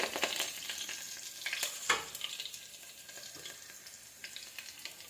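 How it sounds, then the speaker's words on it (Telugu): Garlic and curry leaves sizzle and spit in hot tempering oil, with sharp crackles early on that settle into a softer, quieter fizz. "పోపు దినుసులు చిటాపటాడుతున్నప్పుడు వెల్లుల్లి కొంచెం లైట్గా దంచి వేసేసుకోవాలండి"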